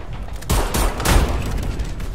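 Bursts of gunfire in the video game Homefront: The Revolution, two loud close volleys about half a second apart followed by a ringing rumbling tail, with no voices.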